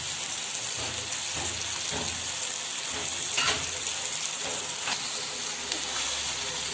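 Small fish sizzle in a pan, a steady close frying hiss with scattered crackles and pops throughout.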